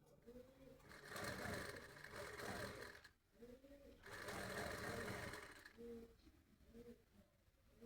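A sewing machine stitching handbag lining in two long whirring runs separated by a pause, close and fairly steady, with a voice speaking softly underneath and short stop-start bursts near the end.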